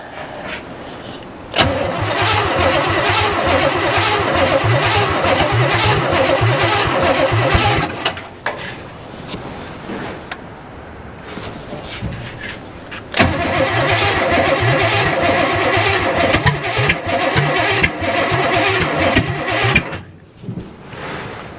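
An abandoned 1967 GMC truck cranks and fires, running loudly for several seconds before dying. A second start follows, catching into a rough, close idle that cuts out near the end.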